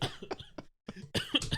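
A person coughs in a few rough bursts at close range, the last burst loudest, broken by a short silence partway through.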